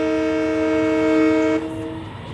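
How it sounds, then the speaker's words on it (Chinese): The horn of an MNRR M7A commuter train in Train Simulator 2019 sounds as a sustained, steady multi-tone blast for about a second and a half, then cuts off, leaving quieter running noise. "游戏里面喇叭声音不是很大。"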